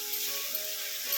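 Fish roe fries in a pan with chili powder, turmeric and coriander powder being stirred in, a steady close sizzle with faint scraping underneath and no talking.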